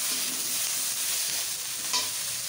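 Potatoes fry in a pan as crushed green chillies go in, giving a steady, close hiss of oil with a brief stirring scrape near the end and no voices.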